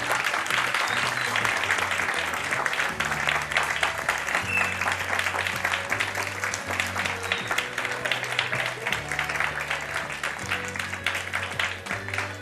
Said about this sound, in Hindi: हानिया बेग के लिए तालियां थी।